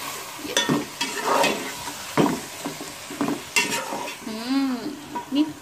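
Ginger garlic paste fries and sizzles in a pan for chicken biryani, stirred in several scraping bursts at close range.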